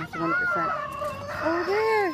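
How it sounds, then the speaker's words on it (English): A rooster crows nearby, with a drawn-out call near the end, while people speak briefly over it. "They did cock-a-doodle-doo."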